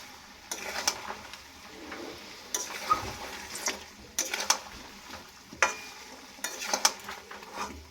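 Raw mango pickle stirred in a pan over a low flame: a spatula scrapes and knocks against the metal in repeated strokes every second or so, over a faint, steady sizzle.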